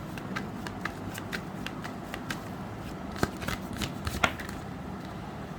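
Tarot cards are shuffled by hand in quick rapid riffles and taps, close and fairly quiet, with a couple of sharper card snaps.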